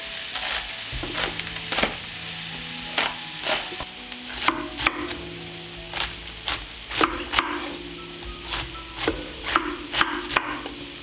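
Vegetables sizzle steadily in a hot pan while a utensil stirs and scrapes in short, regular clicks.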